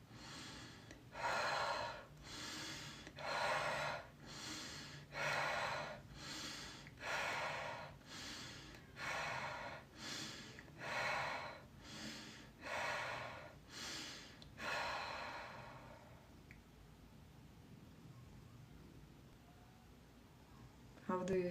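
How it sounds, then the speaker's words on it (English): Deep breathing exercise: about a dozen forceful, rhythmic breaths sound close to the microphone, roughly one every second. They then stop and give way to near silence. "keep breathing another 10 times and see how the number increasing"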